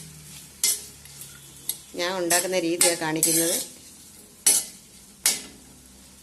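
Onions and green chillies sizzle in a pan as they are stirred, with sharp clinks of a utensil against the pan at intervals, while someone speaks briefly over the frying.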